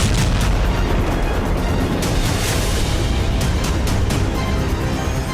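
Loud, sustained blast and rumble as a drone is struck and explodes in the Russia–Ukraine war near the Black Sea, with repeated sharp cracks and booms layered over dense low roar throughout.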